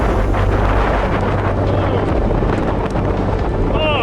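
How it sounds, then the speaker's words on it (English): Strong wind roars around a truck during a storm, with heavy buffeting rumble and gusty noise that stays loud and constant throughout. "Listen to that wind."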